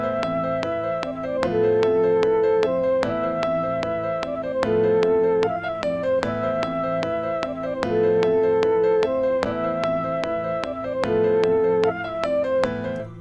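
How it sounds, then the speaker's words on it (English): Mellotron strawberry flute sample playing a looping, breathy melodic phrase with a steady pulse, sustained and fairly even in level throughout, with no voices. "The next thing we're going to be using today is Mellotron, actually a Mellotron flute. Strawberry flutes"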